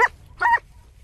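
Hunting dog tracking a wild boar scent trail, giving two short yelping barks spaced about half a second apart, moderately close over a low outdoor rumble.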